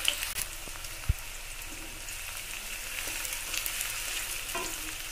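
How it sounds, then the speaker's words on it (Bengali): Two large thinly sliced onions frying in a pan, a close, continuous sizzle with soft crackles and a sharp knock or stir around the one-second mark, no voices. "পেঁয়াজটা বেশ ভালো করে ভাজা ভাজা করতে হবে।"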